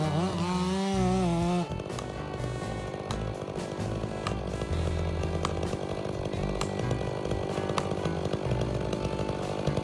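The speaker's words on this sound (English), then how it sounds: "a skilled female logger, equipped with full protective gear, operates a powerful chainsaw" A powerful chainsaw cutting through a massive ancient tree during felling, with a strong, continuous buzzing drone that stays loud and close throughout, following a short higher engine whine at the start.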